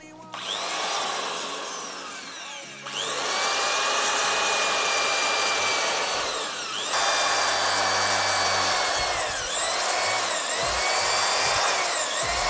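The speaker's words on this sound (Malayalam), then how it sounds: "ഡ്രില്ലിൽ നമുക്കൊരു തുളയിട്ട് കൊടുക്കാം" Power drill boring a hole through a tyre, a loud close high whine running in long sustained bursts with brief dips in pitch as the bit bites into the rubber, no voices.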